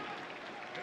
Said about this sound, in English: gets an appreciative cheer from the hometown fans